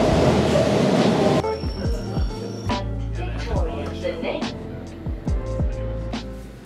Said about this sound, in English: It always seems like I find my way to a train station.